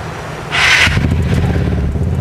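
A Vespa scooter engine is started in a workshop: a short electric starter burst quickly gives way to a steady, close idle rumble that carries on to the end.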